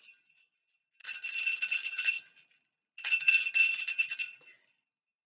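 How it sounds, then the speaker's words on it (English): Two short bursts of bright, tinkling jingle bells shaken close by, with a pause between them and silence around them. "like jingle bells"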